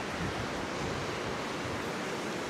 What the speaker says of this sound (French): tu as vu le vent? Un peu trop à mon goût.